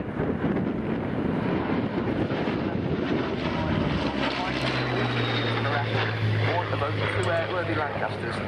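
Avro Lancaster PA474 bomber runs in past the crowd at an RAF Fairford air show, its propeller engines a broad, steady roar with a deepening drone building in the second half, under wind noise and commentary.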